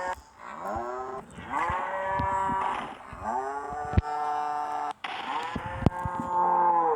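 A cow in the Deer Simulator video game lets out several long, loud, drawn-out moos one after another, close and clear, with a few sharp clicks between them and no talk.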